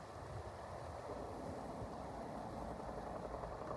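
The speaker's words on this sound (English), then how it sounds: "you can see the trucks out on Route 40. There goes one right now." Faint, steady low rumble from a distant truck driving along Route 40 in Oklahoma, heard from an RV park well away from the highway. The noise holds constant with no distinct passes.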